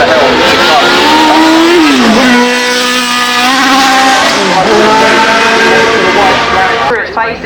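A race car with 1,000 brake horsepower accelerates hard at the Goodwood Festival of Speed. The engine note is loud and close, climbing through the gears with rising revs and two drops between shifts, and a commentator talks over it.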